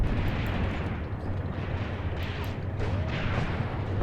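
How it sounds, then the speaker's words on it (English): Tank cannons boom in a dense Eastern Front video game battle against Panther tanks, a continuous loud rumble of distant and overlapping artillery fire with scattered sharper blasts and no talking. "it looks like other tanks are already firing"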